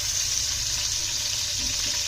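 Chopped onion sizzles in hot oil for a biryani base, a loud, steady, close frying hiss with no break and no voices.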